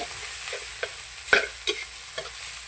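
Rice being stir-fried with fish sauce in a pan for old-style egg fried rice, giving a quiet steady sizzle with a few sharp scrapes and clatters of a utensil spaced through it.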